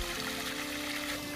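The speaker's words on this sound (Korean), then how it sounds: "연못가에서 찍다 보니까 물소리가 계속 그 들리죠?" Water trickles and burbles softly at the edge of a garden pond, a faint, continuous wash with a low steady hum beneath it.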